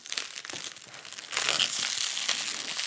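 Plastic wrap packaging around a wall picture crinkles and rustles during an unboxing, a close, continuous crackle that grows louder and denser partway through, with no voices present.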